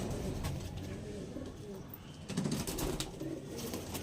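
Pigeons kept for sale coo in overlapping rounds, nearby and moderately loud, with a brief flutter of wings midway.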